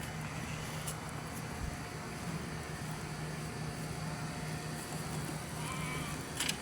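Sheep bleat faintly while eating cardboard in a yard short on grass, thin cries buried in a steady wash of background noise and wind with no talk.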